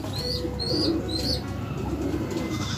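Soft, low pigeon cooing repeats in short phrases against steady background noise, with faint high chirps above.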